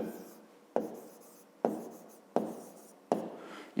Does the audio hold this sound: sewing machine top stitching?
no